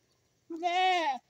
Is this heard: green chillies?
no